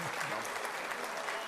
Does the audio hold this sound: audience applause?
yes